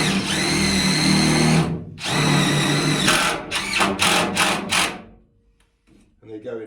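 A cordless drill drives screws into a narrowboat subfloor, two long, loud whirring runs followed by a quick series of short pulsed bursts as each screw seats, then a pause and faint movement.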